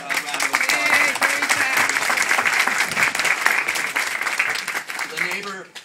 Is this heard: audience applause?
yes